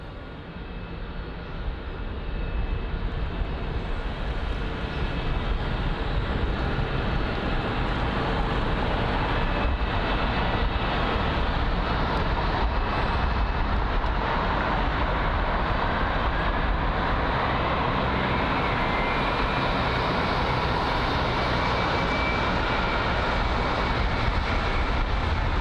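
Air India Boeing 787 jet at London Heathrow, a loud, steady broadband engine roar holding for the whole stretch with no talking over it.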